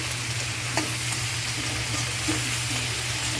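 Shrimp sautéed in a little oil give a dense, even sizzle throughout, close by, with a few faint stirring knocks and a steady low hum underneath and no speech.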